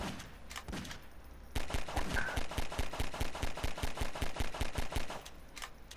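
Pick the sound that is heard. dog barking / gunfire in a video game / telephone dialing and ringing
gunfire in a video game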